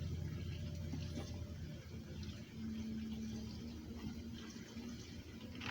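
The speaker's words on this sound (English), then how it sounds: "I'm going to wash my lettuce and tomatoes and get them ready" Steady running water from a kitchen tap rinses lettuce and small sweet tomatoes for homemade cheeseburgers, a continuous close wash with a faint low hum beneath.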